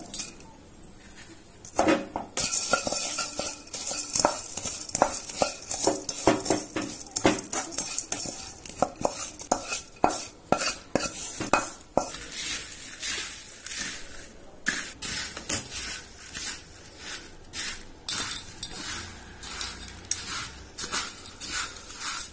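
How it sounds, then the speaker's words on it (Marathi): Puffed rice being stirred into a Kolhapuri bhadang spice mixture in a pan, with a spoon repeatedly scraping and clattering against the metal amid dry rustling, busy and irregular strokes throughout with short pauses. "मी याच्यामध्ये थोडस चिरमुरं गोळून घेते."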